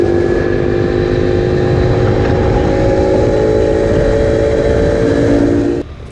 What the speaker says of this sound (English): If you listen close, you can hear the engine bog and struggle on some of these hills.